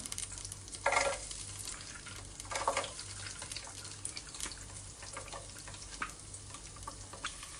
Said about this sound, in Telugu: ఫస్ట్ కరివేపాకు వేగుతుండగానే అల్లం వెల్లుల్లి కూడా వేసుకుందాం